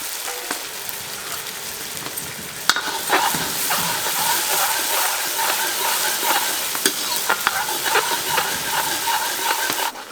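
Onions fry to golden brown in a pan, a loud, close, continuous sizzle broken by the clatter and scrape of stirring, with a sharp knock a few seconds in.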